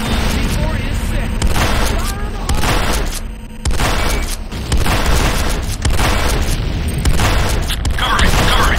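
Heavy booms from C4 charges going off in a combat video game, a series of loud blasts and crashing bursts with gunfire mixed in, and game voice lines calling out over the noise.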